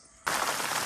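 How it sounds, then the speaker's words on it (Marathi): Rain begins falling suddenly, turning from near quiet into a dense, even hiss of drops hitting surfaces nearby that continues steadily to the end. "पाऊस इलो फायनली"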